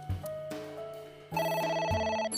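Telephone ringing in the video game AI: The Somnium Files, a short electronic ring that returns as a loud, bright trill over background game music, close and without speech.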